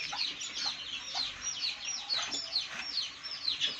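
Small chick cheeping repeatedly in a steady run of high, thin peeps while being offered water from a drinker, fairly close, with faint background noise.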